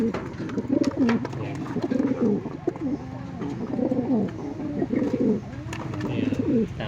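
Pigeons coo in repeated low, rolling phrases throughout, close and steady, with faint chirps and background noise around them.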